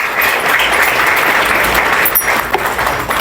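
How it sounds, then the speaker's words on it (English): An audience at a Pakistan Chamber of Commerce-USA Houston Women in Power evening event gives a round of applause: loud, dense clapping from many people, sustained throughout and easing slightly near the end, with no speech over it. "Please join me in giving them a big round of applause"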